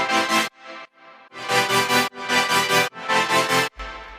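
Layered synth chords play together in short sustained stabs, a rhythmic run of bright, full blocks with brief gaps between them, clear and alone.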